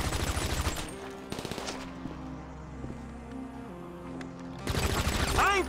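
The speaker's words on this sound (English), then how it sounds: "I'm switching back to my SMG." Rapid SMG bursts in Grand Theft Auto, a dense crackling stream at the start, then scattered single shots over quieter game ambience, before another loud sustained burst near the end.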